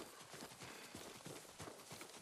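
Horse hooves clip-clop in the video game Ghost of Tsushima, a faint, steady, rhythmic trotting beat heard alone.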